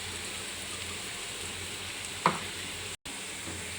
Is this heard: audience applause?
no